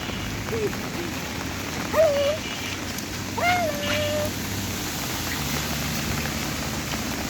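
Pouring rain falls steadily in Agargaon, Dhaka, a constant broadband hiss of drops on surfaces with a few faint bird calls rising above it.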